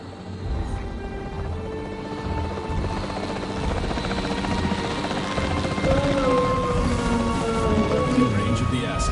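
A capture team helicopter in a dinosaur park video game drones steadily and loudly throughout, a continuous rotor rumble mixed with game ambience and shifting tones, with some voice activity in the background.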